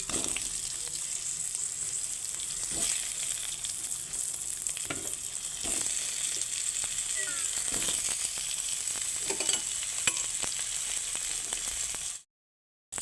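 Potatoes and papaya frying together in a little oil in a pan: a constant loud close sizzle with scattered spatula scrapes and taps, ending in a brief silence.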